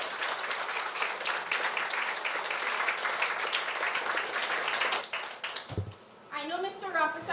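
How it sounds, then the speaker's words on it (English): A crowd at a school donation event for a Dominica relief fund gives sustained, even applause for several seconds. The clapping fades out and a person then starts talking. "So I'd like to give everybody a round of applause."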